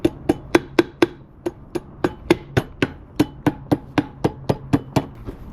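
Hammer tapping on an old pit bike, roughly eighteen sharp metallic blows in a steady, even rhythm, close and loud with no talking.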